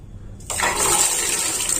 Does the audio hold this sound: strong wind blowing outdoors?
no